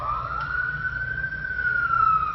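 An emergency siren wails in a single long, steady tone that rises slightly and then eases down, loud and fairly close, over a low rumble with no talking.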